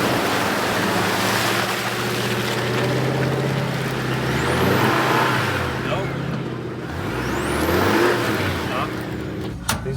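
Hummer engine revving while it pushes through a flooded stretch of the Virgin River, a loud drone rising and falling amid rushing, splashing water and wind, with voices talking over it.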